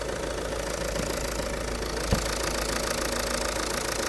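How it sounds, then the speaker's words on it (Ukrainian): Fiat Freemont 2.0 diesel from 2013 idling with an automatic gearbox, a steady, even mid-pitched rumble with a faint diesel knock, close up and running alone, with one brief thump partway through. "двигун заводиться і на холодну, і на гарячу чудово. Працює рівненько, гарненько."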